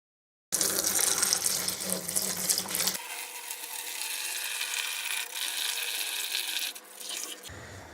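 Old coolant drains from a Kawasaki Z1000SX motorcycle, a steady splashing trickle of liquid that starts abruptly, runs loud and continuous, then thins slightly near the end.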